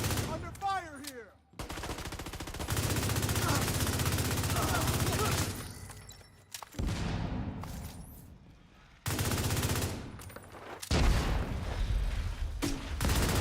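A firefight in the video game The Division 2, with loud sustained bursts of automatic gunfire broken by short pauses and a closer burst near the end.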